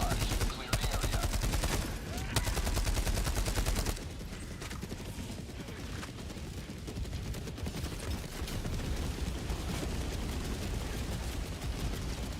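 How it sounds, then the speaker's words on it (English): A Helldivers 2 orbital barrage pounds away in a rapid, dense string of blasts and gunfire for several seconds, then settles into a steady rumbling roar, loud throughout. "Orbital inbound. Firing orbital barrage."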